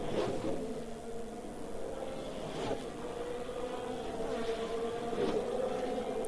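Formula 1 car at Bahrain pre-season testing accelerating out of a corner and upshifting quickly, a steady high-pitched engine whine with rising harmonic sweeps at each gear change, moderately distant.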